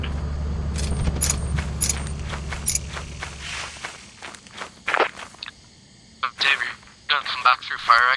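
Keys jangle in bursts of bright metallic clinks among footsteps, with people talking nearby and a low engine rumble fading out early on.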